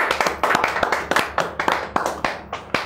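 A small group in a studio interview setting claps in a sparse, uneven rhythm, with distinct individual hand claps standing out close by rather than forming a dense ovation.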